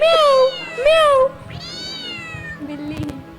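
A woman imitates a cat, giving two drawn-out, loud meows in quick succession. A fainter, shorter call follows, with murmuring voices in the background.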